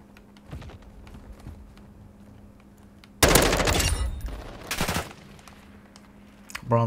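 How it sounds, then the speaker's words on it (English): Close, loud bursts of automatic gunfire from Modern Warfare 2, one sustained volley followed by a shorter one, with quieter game sounds before. "Bro, I'm your teammate. Why are you shooting at me?"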